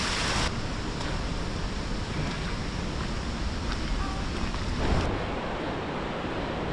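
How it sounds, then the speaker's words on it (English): Steall Waterfall in Glen Nevis, Scotland, pours with a continuous broadband roar, mixed with gusty wind buffeting the microphone, steady and fairly loud throughout with no speech. "I'll climb a waterfall."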